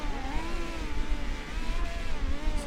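Midget race cars rolling off for a dirt track heat race in New Zealand, a steady, fairly loud engine drone with wavering pitch from several cars idling and creeping along together.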